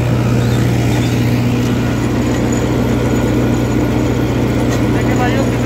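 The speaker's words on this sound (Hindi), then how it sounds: "1700 चक्कर में ट्रैक्टर चला रखा है" A tractor engine runs at 1700 rpm in a field being prepared for sugarcane sowing with a cultivator and rotavator. It makes a loud, steady, unbroken low drone throughout.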